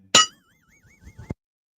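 A single bright bell clang sounds near and loud, followed by a wavering ringing tone that fades over about a second, then a short closing clink, with no voices.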